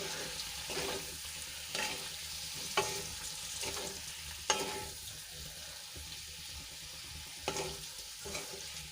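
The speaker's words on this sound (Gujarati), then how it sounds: "હલકા હાથે બધા મસાલાને આપણે સરસ રીતે મિક્સ કરી લઈશું" A spatula scrapes and stirs through sizzling spices for a dry sweet potato dish in a frying pan, with regular strokes and a few louder knocks against the metal.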